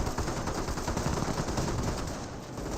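An MG42 machine gun in the game Company of Heroes rattles in a continuous, dense, loud burst of rapid fire that lasts throughout.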